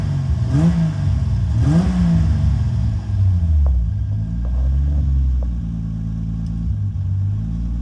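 A Dodge SRT-4 engine, swapped into an Eclipse, idles near 1100 RPM with a steady low rumble, and a couple of light revs near the start. It stays close and fairly loud, with no talking.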